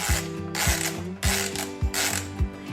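Side knob of a film camera with no film loaded being turned, giving a quick run of dry ratcheting clicks in short bursts, close and fairly quiet.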